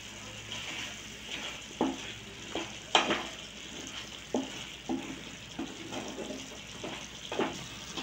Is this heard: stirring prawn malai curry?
yes